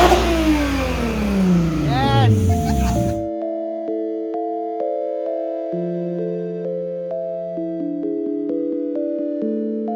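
A Mk1 Volkswagen Golf with a swapped R32 engine roars and revs hard at full throttle for a few seconds, then cuts off abruptly into quiet, soft electronic tones.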